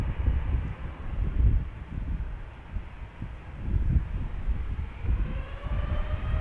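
A KLM Boeing 787-9 Dreamliner departs Schiphol airport as a steady, broad jet roar with low rumbling surges, heard from a distance and holding at a constant level for several seconds without any voices.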